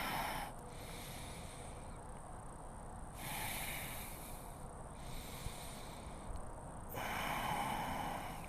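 Slow audible breaths during a yoga flow class, long airy inhales and exhales rising and falling in a few soft cycles, close and quiet with no talking.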